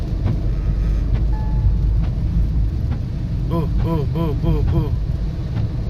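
A car on a highway in heavy rain during a long road trip makes a constant roar of tyres, spray and rain. A short run of warbling tonal sounds rises over it near the end.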